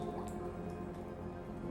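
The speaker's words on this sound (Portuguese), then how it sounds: "A água que pinga, redepositando a calcita e a cal, cria estalactites e estalagmites." Water drips inside a limestone cave, soft isolated drops falling over a low steady background hum, quiet and sparse.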